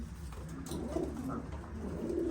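A pet pigeon coos softly in low repeated phrases close by, over a murmuring background.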